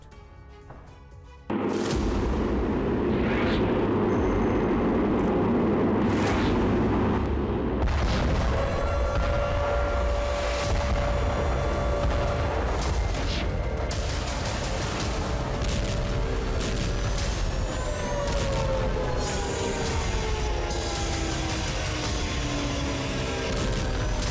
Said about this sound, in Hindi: आसमान से ताबड़तोड़ अंदाज में मिसाइलों से प्रहार।